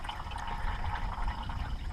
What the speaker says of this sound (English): I'm going to flush out the engine, try to get all the remnants of the old coolant out of there